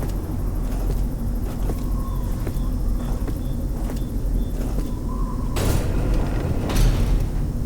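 A heavy, clanky door grinds open in the horror video game Five Nights at Freddy's: Secret of the Mimic, a couple of loud metallic bursts rising out of a steady low ambient rumble, with no talking.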